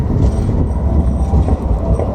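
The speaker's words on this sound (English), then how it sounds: "let's take a photo of this tram though" A Sydney tram rolls past close by on its tracks, producing a steady, loud low rumble with faint metallic clatter and no voices.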